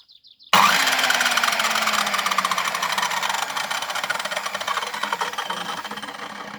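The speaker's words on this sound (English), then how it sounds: "So this is a circular saw." A circular saw cutting battens for cheap raised beds starts abruptly and runs loud and close, holding a steady rattling whine that gradually eases in level.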